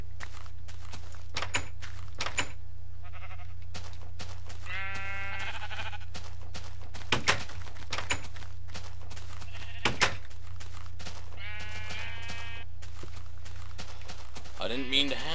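Sheep in the game Minecraft bleat several times, with short wavering cries spread over a steady low hum, mixed with blocky footstep clicks and someone talking.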